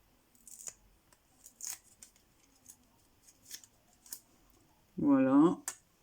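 Scissors snip paper and card while making a handmade card, several short crisp cuts spaced out at close range in a quiet room, followed by a brief spoken remark.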